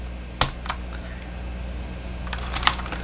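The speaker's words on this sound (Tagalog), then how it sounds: "Typing test tayo." Keys clack on an AJAZZ K870T keyboard during a typing test, a few sharp, close strikes spaced apart with a short cluster near the end, over a quiet steady background.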